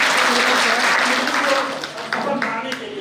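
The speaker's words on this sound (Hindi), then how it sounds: "एक ताली बजाएं" Audience clapping at a community meeting, a dense burst of many hands applauding that tapers off toward the end, with voices talking over it.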